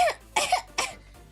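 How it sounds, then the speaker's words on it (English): Three sharp, close coughs in quick succession from a single person, each a short harsh burst with brief pauses between them. "Oh, wait, I have to cough really gross."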